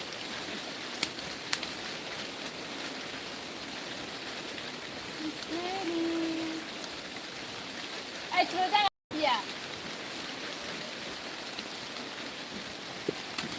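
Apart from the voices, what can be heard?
rain falling in an African village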